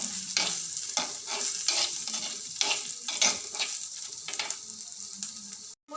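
Finely chopped shallots sauté in a pan for a curry, a loud steady sizzle broken by repeated scraping stir strokes, then a brief dropout near the end.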